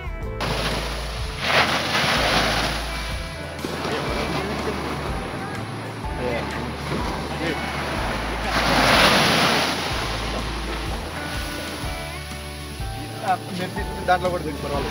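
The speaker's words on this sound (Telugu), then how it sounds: "చూశారు కదా సముద్రం ఘోష ఎలా ఉందో," Sea waves roar onto the beach at Poovar Island in Kerala, a continuous rumbling surf that swells into loud crashes twice, with wind buffeting the microphone throughout.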